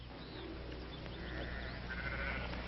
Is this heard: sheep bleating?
yes